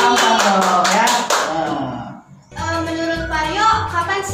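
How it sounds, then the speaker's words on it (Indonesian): Audience clapping at a school student-council talk event, a burst of applause that fades out midway and then gives way to talk and music-like tones, with speech mixed in throughout. "Tepuk tangan dulu."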